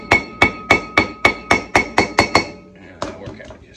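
Ten sharp metallic hammer strikes driving a bearing seal into a 1968 Firebird disc brake rotor, steady rhythm, close and loud, followed by a few lighter clanks and rattles.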